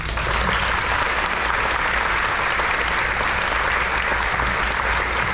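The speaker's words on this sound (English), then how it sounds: "So please give them a round of applause" A large audience at a Stony Point High School Navy JROTC change of command ceremony applauds the cadets, a loud, dense, unbroken roar of clapping hands throughout.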